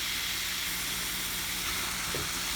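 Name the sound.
ground meat sizzling in hot frying pan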